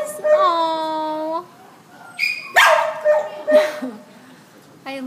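Several short, high-pitched yips and barks from puppies ring out close by in an animal shelter kennel, with whining tones between them.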